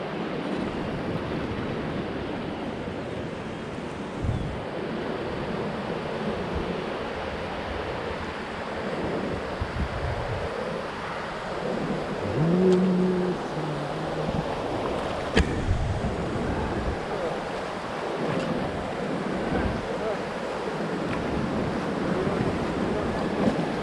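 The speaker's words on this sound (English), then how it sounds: "rapid is coming up. Our rapid name है Return to Sender, name of the rapid." On a rafting trip on the Ganges at Rishikesh, the river's rapids give a loud, continuous rush of churning whitewater. Wind buffets the microphone, and brief bumps and splashes stand out within the steady roar.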